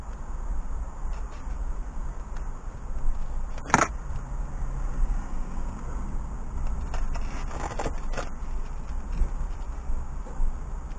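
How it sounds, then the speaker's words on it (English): Steady motorway traffic noise rumbles in the background of an indoor workspace, a constant low wash of distant road sound with a few faint clicks and knocks nearby and no talking. "Obviously you can hear the motorway noise in the background"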